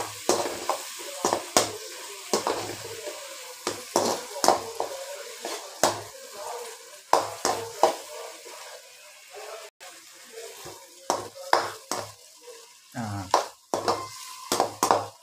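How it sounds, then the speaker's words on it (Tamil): Curry leaves scattered over onions in a hot pan and stirred, with repeated close scraping strokes and soft clatter over a light sizzle, a voice occasionally speaking alongside. "மேலோட்டம் கருவேப்பிலையை போட்டு சும்மா லைட்டாக கலரி விட்டுடலாம்."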